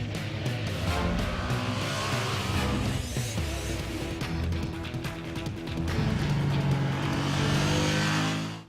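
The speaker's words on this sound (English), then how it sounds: "Ducati goes room, room, big, fat room." A Ducati motorcycle engine revs loudly and continuously, a deep, throaty roar that swells and falls with the throttle, close by and steady throughout with a final surge near the end.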